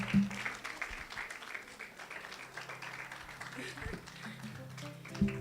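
Continued audience clapping at a prematurity awareness summit, a moderate, steady wash of claps with a voice speaking over it near the start and end.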